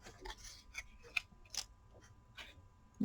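Scissors cut through paper with a few quiet, crisp snips and faint rustles, close by in a hushed room with no voices.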